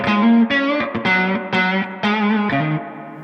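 Electric guitar with distortion and chorus-like effects plays a phrase from a song intro, opening with a short choked muted strum, then sustained, vibrato-tinged bent notes and quick pickups, loud and up close with no voices.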